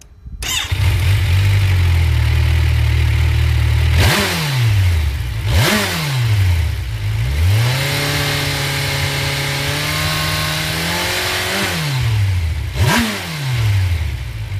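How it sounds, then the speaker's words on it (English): A Kawasaki Versys 1000 motorcycle engine starts and idles loudly, then is blipped through several sharp revs, one longer held rev, and more quick throttle stabs, each climbing and falling back to a steady idle. "The engine is designed to work at higher RPMs, so it just annoys you in a city."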